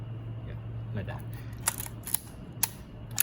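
A Yashica Electro 35 GL film camera clicks softly as its leaf shutter fires on the self-timer, several faint sharp ticks over a low electrical hum, close by with no talking.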